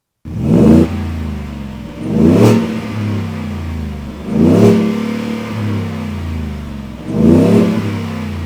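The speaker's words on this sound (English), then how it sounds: "does that supercharged V8 sound phenomenal coming out of the back of these" A 775 hp supercharged 5-liter V8 Shelby F-150 pickup revs four times, each throttle blip swelling into a deep loud roar from the rear exhaust before settling back to a low, rumbling idle.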